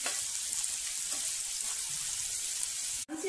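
Chopped onions fry in a pan for paneer bhurji, giving a steady, close hiss and sizzle with faint crackles throughout, then a brief clack near the end.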